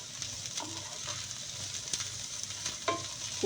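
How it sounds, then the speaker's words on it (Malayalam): Chopped garlic, ginger, green chili, spring onion bulb and a small chopped onion stir-frying in a pan for vegetable fried rice, a steady close sizzle with scattered stirring scrapes throughout. "ചോപ്പ് ചെയ്ത ഗാർലിക്, ജിഞ്ചർ, ഗ്രീൻ ചില്ലി, പിന്നെ സ്പ്രിംഗ് ഓണിയൻ്റെ ബൾബ്, ഒരു ചെറിയ ഓണിയൻ ചോപ്പ് ചെയ്തത്, ഇതെല്ലാം ഇട്ട് ഏകദേശം 1 മിനിറ്റ്"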